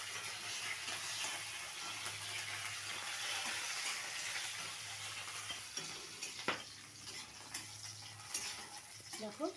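Food fries in a pan while being stirred, giving a continuous close sizzle with intermittent scraping and clattering of the stirring utensil, steady throughout with no talking.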